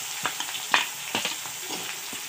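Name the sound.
frying onion, bay leaf and green chillies in oil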